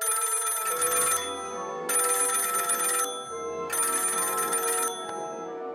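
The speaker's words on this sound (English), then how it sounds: "Assistant, answer the phone!" An electronic telephone bell rings in repeated bursts, three long trills separated by short pauses, loud and close with nothing else heard.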